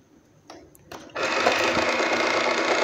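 Currency counting machine inside a car safe box with password and fingerprint lock, starting with a couple of faint clicks, then a sudden fast, steady whirring flutter of notes running through, close and loud.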